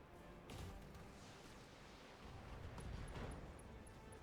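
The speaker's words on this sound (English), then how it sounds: "And now the Griffin suffers of an ammo explosion." A Griffin mech's ammunition cooks off in the Battletech video game, giving a pair of muffled, fairly quiet blasts over a low rumbling background with no talk.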